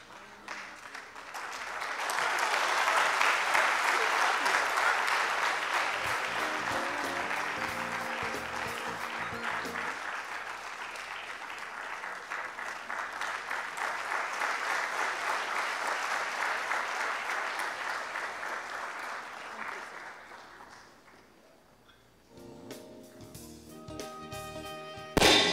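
Sustained audience applause at a public lecture, loud and dense for about twenty seconds before fading, with some brief knocking sounds and a voice near the end.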